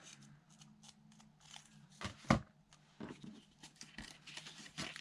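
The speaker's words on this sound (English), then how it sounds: "And this edge I might just rough up with my scissors." Scissors roughing up the edge of paper for a junk journal, a series of quiet close snips and scrapes in an irregular rhythm with a sharper cut partway through.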